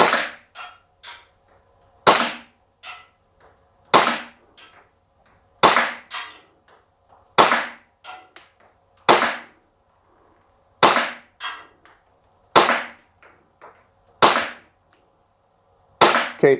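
A G&G Piranha MK I gas blowback airsoft pistol fires about ten sharp, snappy shots in a slow, fairly even rhythm, each crack followed by a short rattle of the slide, with quiet pauses between.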